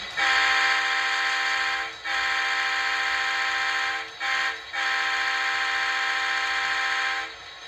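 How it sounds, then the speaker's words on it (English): A sampled locomotive horn plays from an HO scale model train sound system, a loud, steady multi-tone blare sounded in several long blasts with brief gaps between them. "I'll give you a sample of the horn."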